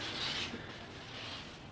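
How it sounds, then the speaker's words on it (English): Fiberglass coating on a model airplane being sanded by hand between coats: a steady, close scratchy rasp that runs almost unbroken, with a small knock near the end. "Sanding between coat 2, putting 3 down, sanding coat 3, then putting 4 and 5 down, and then sanding coat 5."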